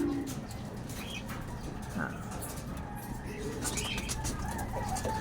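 A racing pigeon conditioning for a derby race coos amid steady outdoor background noise, with faint chirps and a voice talking nearby.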